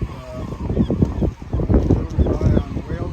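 Snow geese honking in a spring flock, a dense overlapping chorus of repeated honks close by and fairly loud, with no pauses throughout.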